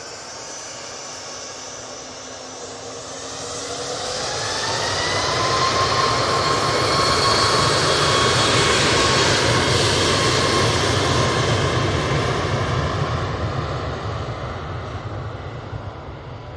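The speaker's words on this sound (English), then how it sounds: "There we go with this MAX 8." A Ryanair Boeing 737 MAX 8 jet airliner at Manchester Airport swells from a distant rumble into a loud, whining roar with rising tones, peaks midway, then eases only slightly as it passes.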